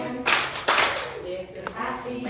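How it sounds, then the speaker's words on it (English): Hands clapping along to a children's song during a library story time, two or three bursts of loud claps in rhythm with the singing, which carries on over and between them. "If you're happy and you know it, clap your hands."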